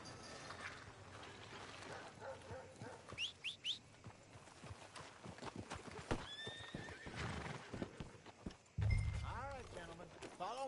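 In a PS4 video game, hooves clip-clop at an easy pace while a horse whinnies and snorts, with people talking over it and a low rumble near the end.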